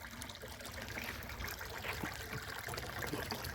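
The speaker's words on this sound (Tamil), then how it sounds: "தண்ணி எப்படிங்கண்ணா வருதுங்கண்ணா நல்லா வருதுங்கண்ணா" Water pours steadily from the outlet of a solar-powered AC borewell pump with a 5 HP, 50-stage motor drawing from 1000 feet, a continuous close splashing rush with no talk.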